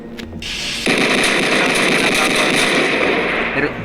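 Gunfire in the Roblox game Paracam: after a brief lead-in, a dense, loud burst of rapid shots and crackling blasts fills the rest of the clip without pause.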